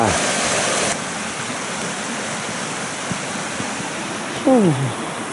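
Steady broadband rush of flowing, splashing stream water on the Rio Majaceite in Andalusia fills the clip, loud at first then slightly softer, with a brief voice-like sound near the end.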